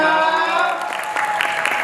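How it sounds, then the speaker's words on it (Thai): Applause at a press conference for a fan-meeting event in Bangkok, a steady wash of clapping lasting about two seconds, with a harmonic tone and a voice faintly under it. "วันนี้ขอเสียงปรบมือดังให้ับ นิชคุณครับ"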